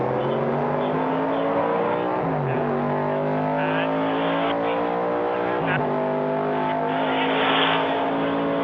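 Vintage race cars, among them a 1971 AMC Javelin and a 1969 Chevrolet Camaro, scream past the start-finish line at a historic Rolex race meeting, their engines droning and shifting pitch as they pass, under an announcer's commentary.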